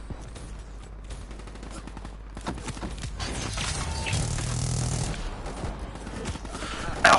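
Rapid bursts of Call of Duty gunfire crackle over a busy, noisy mix of effects, with a louder swell near the middle.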